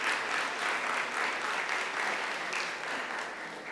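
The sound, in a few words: applause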